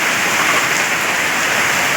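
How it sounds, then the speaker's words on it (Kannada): Steady, dense rain pours down with a constant loud hiss, unbroken throughout. "ತುಂಬಾ ಮಳೆ ಆಗ್ತಾ ಇದೆ ಜಸ್ಟ್ ಇವಾಗ ಸ್ಟಾರ್ಟ್ ಆಯಿತು"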